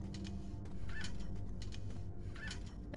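A bird locked in a room in a cold-weather PS4 game gives off repeated squawking, honking calls over a steady loud hum of background noise.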